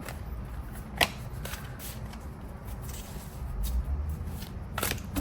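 Tarot cards being shuffled by hand during a reading: soft riffling and flicking with a few sharper snaps near the start and end, fairly close and quiet, with no voice.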